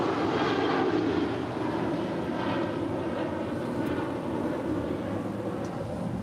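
An American Airlines airliner at LAX, a steady broad jet engine roar heard from a distance, constant and unbroken throughout with no voices.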